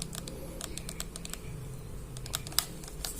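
A fixed fake back button attachment for a game controller gives crisp, close plastic clicks, pressed repeatedly in quick uneven runs over a faint background hum.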